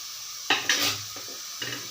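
Two large, very ripe tomatoes hit a hot frying pan for a quick side dish, sending up two sharp sizzling bursts followed by softer crackles and a stir, up close with no talking.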